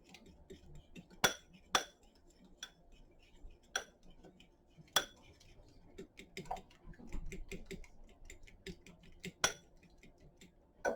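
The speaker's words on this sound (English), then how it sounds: "And then we go and just kind of mix it all together." Ingredients are mixed in a bowl, with irregular light clinks and taps of a utensil against the bowl, close and fairly quiet, scattered throughout.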